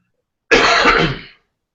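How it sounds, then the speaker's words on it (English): One close, harsh throat clearing, a short raspy burst lasting under a second, then silence. "I just didn't want to cough in everybody's ear."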